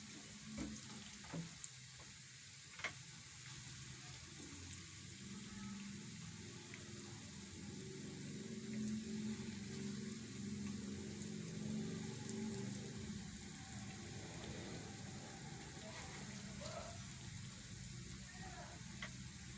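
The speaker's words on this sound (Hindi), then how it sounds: "ऐसे इनको घुमा घुमा के हम फ्राई कर लेंगे" Sweet potato and potato kebabs fry in hot oil, a steady close sizzle and crackle running throughout, swelling slightly louder midway, with a few small clinks early on.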